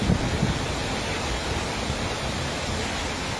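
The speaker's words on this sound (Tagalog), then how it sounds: "Malakas ang hampas ng hangin at maladilubyong ulan na hatid ng tropical storm." Steady, dense roar of wind and heavy rain from Tropical Storm Egay with no break, a broad hiss filling the whole clip at constant loudness.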